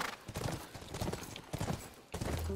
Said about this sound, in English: Ran out of horses and we're trying to track Ellie, who rode on a horse for some reason.